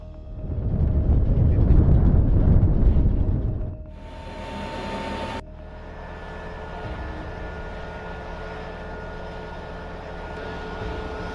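A US Air Force C-17 transport jet takes off with a loud, broad roaring rumble for about four seconds, then settles into a quieter, steady engine drone.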